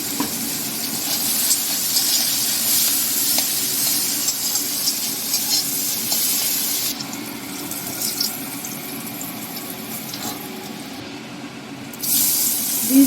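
Capsicum and salt going into a hot pan for restaurant-style Chinese noodles, giving a steady, loud, broadband sizzle that holds throughout with slight dips and surges, close up and without voices.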